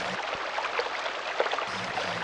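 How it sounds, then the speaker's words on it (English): Sound effect of blood flowing through the body, a continuous gushing, watery hiss with faint bubbling swells, steady and moderately quiet throughout. "That's the sound of blood flowing."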